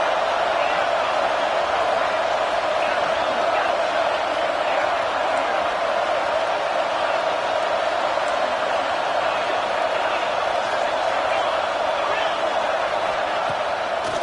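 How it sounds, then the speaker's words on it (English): Football stadium crowd noise during a red-zone defensive stand, a steady broad roar sustained throughout without letting up, with a commentator talking over it. "the crowd coming to life here trying to help this defense down in the red zone"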